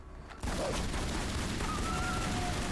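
Gunfire from Lara's pistols in Tomb Raider Anniversary, a dense, steady run of rapid shots that sets in abruptly after a brief quiet moment and carries on loud and unbroken over a noisy game background.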